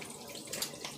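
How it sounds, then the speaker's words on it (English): Water poured into an Instant Pot of ham chowder, a brief close splashing and trickling of liquid, fairly loud and without speech. "Now, I'm going to add 2 cups of water."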